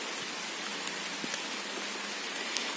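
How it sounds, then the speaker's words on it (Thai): Steady rain falls outdoors while mushrooms are picked in the countryside, a continuous soft hiss of drops with a few sharper patters standing out, no voices heard. "โอ้ฝนตกแล้วพี่น้องครับ"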